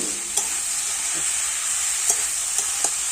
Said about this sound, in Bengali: একটু ভালো করে নাড়িয়ে চাড়িয়ে কিন্তু কষে নিতে হবে